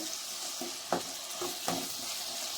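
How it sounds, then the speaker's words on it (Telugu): Masala for a brinjal (vankaya) curry frying in a pan, a steady bright sizzle with several scraping stirs of a spoon breaking through at intervals, close and fairly quiet. "ఇది బాగా పచ్చి వాసన పోయేంత వరకు వేయించుకోండి"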